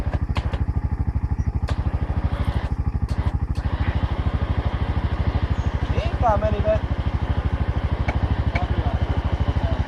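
An ATV engine idles steadily in a forest, a close, even stream of rapid low thumps throughout, while people talk over it.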